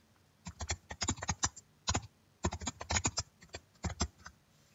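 Typing on a computer keyboard at a desk, heard as quick bursts of close, crisp key clicks in uneven runs with short pauses between words.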